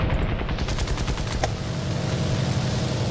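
Machine guns on a British reserve-tier fighter plane in War Thunder, firing in a dense continuous burst over loud engine drone, with rapid repeated shots filling the whole stretch.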